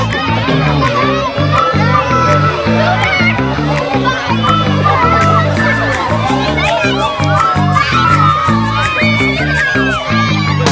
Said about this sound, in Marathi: मुलांचा जल्लोष बघा, मुलांचा जल्लोष.